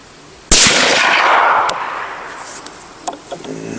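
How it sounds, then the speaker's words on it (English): A single loud, sharp crack of a Bergara Wilderness Terrain rifle shot fired during group shooting, followed by a long fading echo and a few faint ticks and knocks afterward. "Still shooting just a little bit to the left, it looks like."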